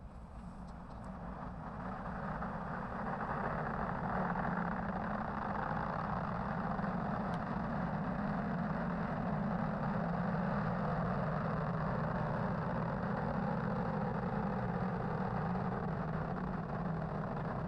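A deep, steady rumbling roar of a SpaceX Falcon 9 rocket engine at liftoff from Launch Complex 39A, Florida, swells in over the first few seconds, then holds constant and broadband without speech.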